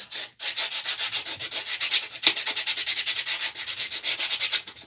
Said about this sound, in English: I think what I'm going to do first is just roughen it up